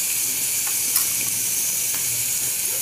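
Food frying in a pan while being stirred, a loud, continuous sizzling hiss with faint scraping touches underneath.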